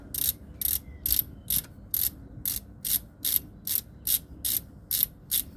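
A ratchet wrench with an 18 mm socket clicks in about thirteen quick, evenly spaced bursts, close and crisp over a quiet background with no talk.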